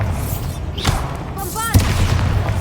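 Bombarda blasting spell going off in Hogwarts Legacy, with a booming explosive thump near the end, set amid other spell effects, whooshes and a voice over a steady rumbling game background.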